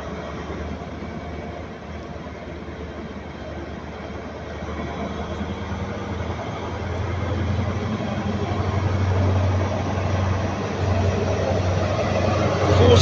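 Train waiting at a station platform before departing on the Plymouth to Penzance service, a steady low diesel engine rumble that swells slightly louder toward the end, with no voices.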